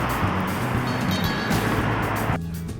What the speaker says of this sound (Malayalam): ഇതാണ് ഇവിടുത്തെ ട്രാഫിക്.